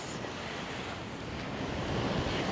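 Ocean surf rolling onto a beach at Magic Island near Ala Moana in Hawaii during a morning walk, a steady broad wash of breaking waves with wind rushing across the microphone, no voices.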